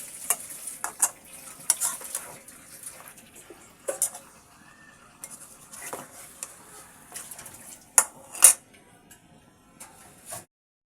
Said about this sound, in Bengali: এবার আমি মাছটাকে নেড়ে দেব।